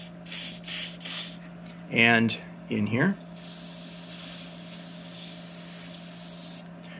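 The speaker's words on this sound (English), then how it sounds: "So we're going to spray that." Aerosol spray hisses steadily onto the engine mounting bracket and parts of a Craftsman 13.5/27 lawn mower, a close, continuous rush broken briefly by someone speaking.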